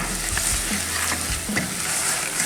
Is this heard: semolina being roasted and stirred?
yes